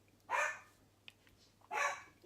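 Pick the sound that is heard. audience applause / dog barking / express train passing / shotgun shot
dog barking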